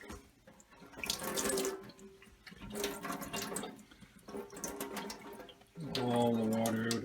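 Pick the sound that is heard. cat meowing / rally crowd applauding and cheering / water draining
water draining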